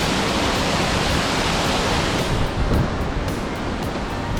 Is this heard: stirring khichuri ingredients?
no